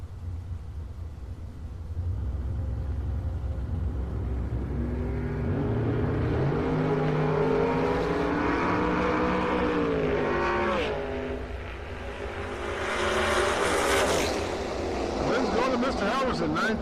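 Drag racing at TriState Raceway, with a 1965 Chevy II and its 355 small block accelerating down the strip in a loud, rising roar that swells and fades, while an announcer talks over it.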